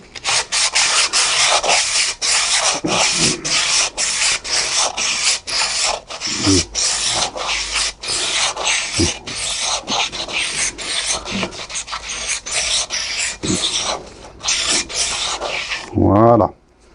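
Car brake drum being sanded to remove surface rust, continuous close abrasive rubbing in rapid back-and-forth strokes with brief pauses and a couple of small knocks near the end.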